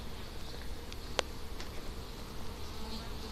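Honey bees buzzing around an open hive during an inspection, a faint continuous drone with occasional single bees zipping close past, and no talking.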